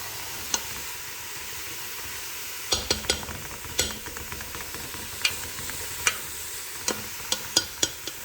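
Ingredients for a 12-bean soup with chicken sausage being stirred in a pot over a faint low hiss, with a spoon knocking and scraping against the pot in irregular sharp taps through the clip.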